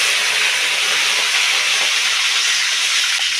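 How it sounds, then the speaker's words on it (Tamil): Mustard seeds crackle in hot oil in a home kitchen, a steady dense hiss and sizzle that stays loud and close throughout, with faint tiny pops scattered in the bright spitting noise. "கடுகு நல்லா பொரியுது"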